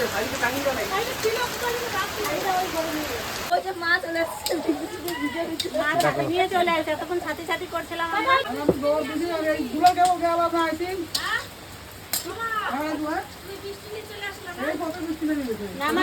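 A steady patter of rain hisses throughout, with people talking over it and brief dips in the noise.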